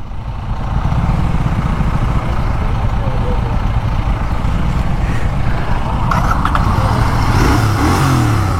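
A Kawasaki Z650 motorcycle engine runs loud and close throughout, a steady rumbling drone that swells slightly toward the end, with faint voices in the background.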